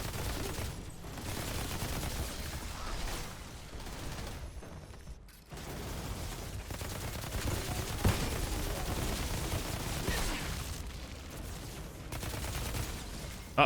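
Sustained gunfire in the shooter game Outriders: dense, rapid automatic bursts run almost continuously, with a brief lull partway through before the shooting resumes at full intensity.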